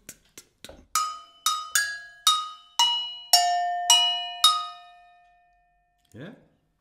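A four-bell agogo struck in a rhythmic pattern, a few quick muted taps followed by a run of bright ringing strikes that step across the bells and decay slowly, then a brief low knock after a pause.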